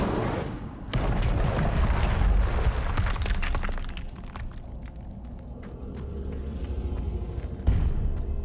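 A fiery Incendio spell erupts in Hogwarts Legacy on Xbox Series X, a loud roaring blast that swells and rumbles through the opening seconds, fades to a lower crackling burn, then flares with a sharp burst near the end.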